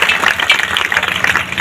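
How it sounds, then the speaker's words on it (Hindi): Crowd at a political program claps for Ranga sahab, a short, fairly loud patter of applause heard up close. "एक बार रंगा साहब के लिए जोरदार तालियां।"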